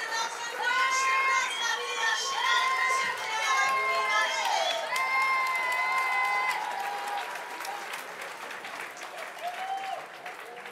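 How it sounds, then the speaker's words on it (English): A crowd at a STIHL Timbersports European Trophy event cheers and screams for Pierre Puy-Barré, loud sustained shouting and high whistling voices with applause, fading somewhat toward the end. "you'll hear the crowd in the background screaming for Pierre Puy-Barré"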